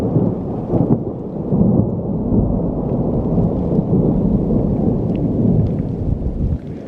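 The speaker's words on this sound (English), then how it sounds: "listen, that lightning was serious." Heavy thunder from close lightning in the Nevada backcountry, a deep continuous rumble rolling on for several seconds, loud and near, with the first rain starting to fall and no talking.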